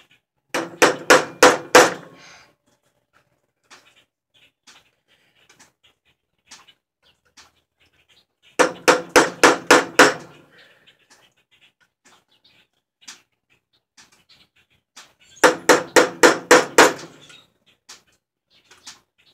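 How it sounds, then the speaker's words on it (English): Hammer tapping holes out of a metal shooting target, heard as three bursts of about seven rapid, sharp metallic strikes each, separated by quiet gaps with a few scattered lighter taps. "tap the holes out."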